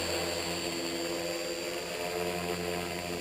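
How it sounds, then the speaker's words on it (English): EXI 450 Pro RC helicopter flying with an upgraded Spektrum DX6i radio, giving a steady, loud whine with a droning rotor hum that holds evenly throughout, no voices. "A pro type helicopter like this, they're not going to just sit there and hover."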